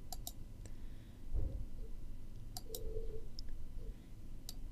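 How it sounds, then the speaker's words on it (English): Faint computer mouse clicks tick sparsely in a quiet room while modelling in Fusion 360 CAD software, a few soft single clicks spread over a few seconds. "I'll start it out by clicking on one of these planes."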